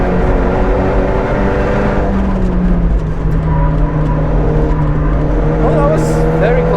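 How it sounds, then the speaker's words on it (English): A built, modified car engine pulls hard up a climb on the Nürburgring, a steady loud drone with a slowly shifting pitch under ongoing talk. "And now it's gonna come the real test of a built engine, modified engine,"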